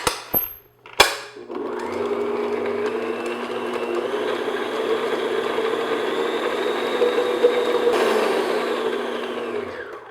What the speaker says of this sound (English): And then I'm just going to beat these together just until they're well mixed.